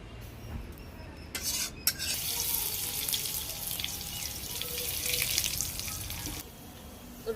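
Garlic frying in a pan for a tomato dal, with a spoon stirring and scraping against the metal under a loud, steady sizzle. A few clanks break in early, and the frying eases off toward the end.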